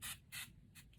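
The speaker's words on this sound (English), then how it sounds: "Let me get my mineral water spray." A mineral water spray mists onto a face in quick, faint puffs, two close together and then two more after a pause, in a quiet room.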